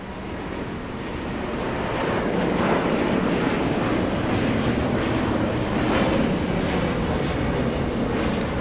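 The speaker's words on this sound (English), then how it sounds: "There goes Air Premia flying to Seoul in South Korea, 787-9 Dreamliner." An Air Premia Boeing 787-9 Dreamliner departs Los Angeles International Airport, a broad jet roar that swells after the first couple of seconds and holds steady at moderate distance, with light wind noise and no talking.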